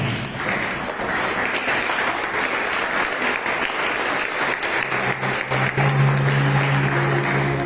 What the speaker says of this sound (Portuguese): Podes assentar e exaltar o Rei Jesus com as palmas.